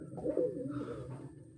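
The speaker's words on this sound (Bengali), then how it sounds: "অনেক সুন্দর কবুতর।" A racing pigeon gives a single short, throaty coo, close by and fairly quiet, with no other sounds around it.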